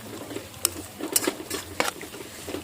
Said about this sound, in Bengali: ভালো করে মিশিয়ে নেবো পুরো সবজিটার যাতে গায়ে হয়ে যায়।